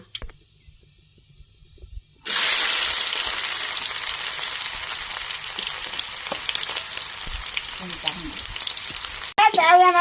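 After about two seconds of near silence, finely chopped onion drops into hot oil with mustard seeds and bursts into a loud, continuous sizzle that holds steady, ending with a brief clatter.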